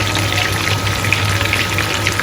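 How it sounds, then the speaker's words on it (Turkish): Steady sizzling and crackling, like food frying in a pan, a continuous hiss with a low hum underneath and no talking. "Şimdi sadece kızartıyorum."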